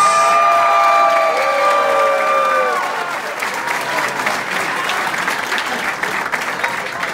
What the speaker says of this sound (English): Let's hear it for Heather Comas!